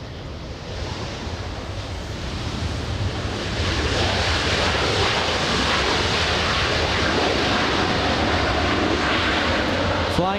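A Delta Airbus A321neo jet from Seattle roars at LAX, rising from a softer rush to a steady, loud broadband engine sound held close for several seconds, mixed with wind noise.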